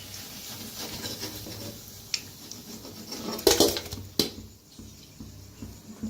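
Freshly fried kadhi vadas being lifted out and set onto a plate, heard as a few light metallic clinks and scrapes of utensils against cookware, close by, over a soft steady kitchen background.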